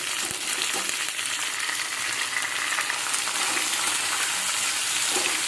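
Onion and tomato fry together in a hot pan during potol bharta prep, giving a steady, dense sizzle with a faint early clink, close and continuous with no talk.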